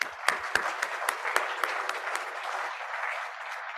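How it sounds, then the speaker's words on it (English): Sparse, fairly faint clapping from a meeting audience, with distinct individual claps standing out early and then thinning into a softer, steady patter. "Let's give a big round of applause to Jeff Kramer"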